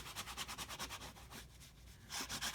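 Rhythmic rubbing strokes as a folded paper page in a wedding keepsake album is burnished down, about a dozen quick even passes, a brief quieter pause, then more strokes, close and alone.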